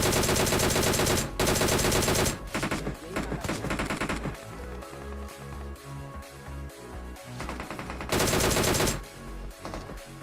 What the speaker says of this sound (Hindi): क्योंकि पीछे से भी गोलियां चल रही थी